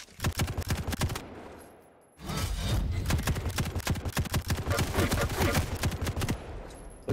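Heavy machine gun fire rattles in rapid, dense bursts during a competitive first-person shooter duel, with a brief pause before the loud, continuous stream of shots resumes.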